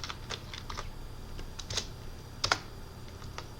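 Fast typing on a computer keyboard while filling in database settings, close and crisp clusters of key clicks with a few louder keystrokes, no voice.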